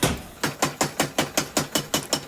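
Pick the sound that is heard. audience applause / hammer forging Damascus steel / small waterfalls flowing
hammer forging Damascus steel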